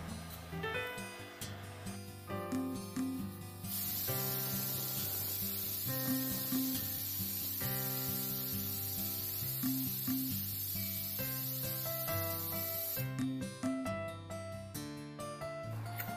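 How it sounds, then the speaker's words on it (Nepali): A pressure cooker cooking chickpeas for chhole vents steam in a loud, steady hiss that lasts about nine seconds in the middle, with music playing throughout. "अब म कुकरको बिर्को बन्द गरेर यसलाई 5-6 सिटी लाग्न दिन्छु।"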